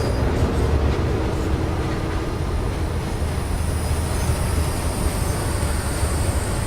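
A Class 31 diesel locomotive in Train Simulator on the Bristol to Exeter route gives a loud, steady engine drone with rumbling wheel noise and a constant high whine.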